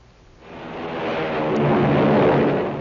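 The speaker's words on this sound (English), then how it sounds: "It's the sound of a mighty American Airlines flagship taking off." An American Airlines flagship airliner taking off, a broad jet roar that swells in from quiet and holds steady and loud to the end.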